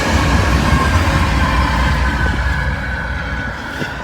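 A train rolls past close by, a loud steady rumble of wheels on rail with faint rhythmic clicks and a slight squeal, gradually easing in volume toward the end.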